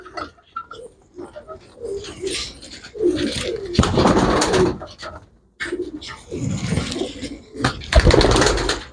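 Pigeons at a Punjabi pigeon seller's loft coo in repeated low bursts, fairly close, with people talking over and between the calls.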